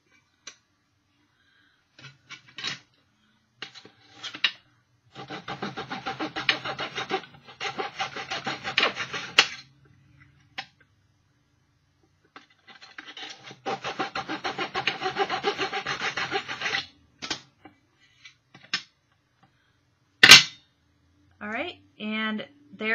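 Hand sawing through small wood blocks, cutting them into one-inch segments for farmhouse Christmas ornaments: two long runs of quick, rhythmic rasping strokes with short pauses, followed by a few knocks and brief talking at the end.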